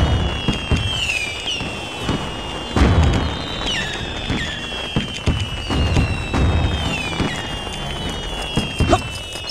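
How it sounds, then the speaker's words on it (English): Fireworks burst repeatedly in the Lego Ninjago Shadow of Ronin video game, loud booms and crackles with whistling rising streaks scattered throughout, close by and dominating the scene. "Look out! Firework!"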